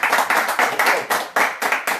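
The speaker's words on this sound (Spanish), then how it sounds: "Aplausos, muchachos, aplausos." A group clapping in quick rhythmic bursts during a live music gathering, the claps falling in an even, regular beat for about two seconds, close and moderately loud, with no one talking.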